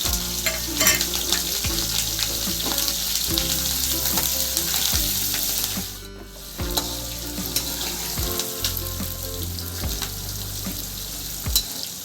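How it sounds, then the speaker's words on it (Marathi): Spice tempering sizzling hard in hot oil for corn chivda, a loud continuous frying crackle with stirring clinks, briefly dipping midway before resuming strongly, no speech. "फोडणी आता याला फोडणी दिली जाणार आहे"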